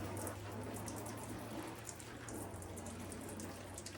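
Water rinsing gold prospecting tailings and silt in a tub, a continuous spraying patter of water with scattered splashy drops, moderately close and steady.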